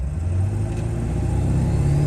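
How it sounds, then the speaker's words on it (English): A 2000 Ford F350 truck fitted with a KC300x turbo accelerates at full throttle while towing a trailer, its loud, steady engine roar rising slightly in a continuous rumble with no talk. "We're gonna floor it with the trailer."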